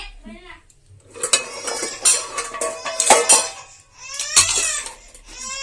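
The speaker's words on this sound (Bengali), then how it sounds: "তো আমি কুকারের ঢাকনাটা লাগাই দিই।" Clattering metal of a pressure cooker lid being fitted and locked in a home kitchen, several sharp clanks and scrapes close up, with a small child crying faintly in the background.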